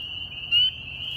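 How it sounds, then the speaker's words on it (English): A tiny frog calls loudly at close range during herping: a steady, piercing high trill that runs through the whole clip and swells louder in the middle, with no voices. "But you guys heard how close that frog was."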